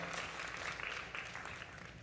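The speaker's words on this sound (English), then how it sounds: "Give him a big round of applause." A live audience claps steadily for volunteers called up on stage at a brain fitness talk, dense applause filling the room throughout at moderate level.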